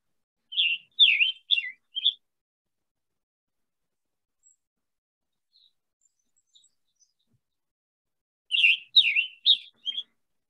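Scarlet tanager song in two clusters of short, bright, burry phrases, each burst of three or four notes separated by a long silent pause, clear and fairly close.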